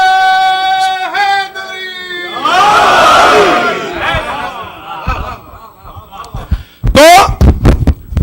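At a Shia majlis for 12th Safar held at a Maryland mosque, a preacher's voice gives way to a loud surge of the congregation chanting religious slogans in unison, followed by further sharp collective shouts.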